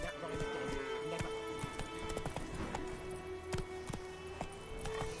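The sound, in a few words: horse Roach galloping hoofbeats in The Witcher 3 video game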